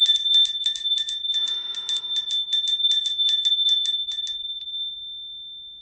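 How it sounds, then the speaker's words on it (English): A small bell rung rapidly in a quick series of bright metallic strikes, loud and close, then left to ring out into a long fading tone. "I'm just going to use my bell to raise the vibrations here"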